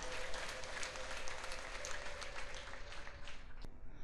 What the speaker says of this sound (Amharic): ለእግዚአብሔር ክብር እልልታ ጭብጨባ